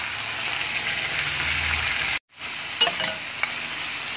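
Sliced ampalaya dropped into a pan of onion and garlic sizzles in a steady hiss. The sound cuts out briefly midway, then resumes with a few light clinks and stirring scrapes.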